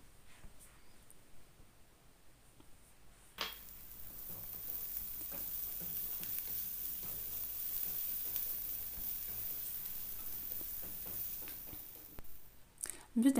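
Steady sizzling of onions frying in a pan, a continuous crackling hiss with occasional stirring sounds, starting after a quiet moment.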